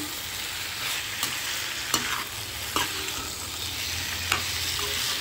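Half-boiled papaya with shrimp and potato being stirred in a pan: a steady sizzle under several distinct spatula scrapes and taps against the pan, close and fairly loud, no talk.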